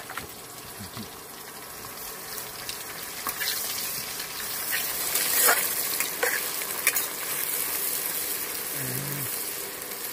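Crab gravy cooking on an electric stove at a riverside picnic, with a steady oily sizzle and frying hiss running throughout, plus occasional stirring scrapes and soft clinks.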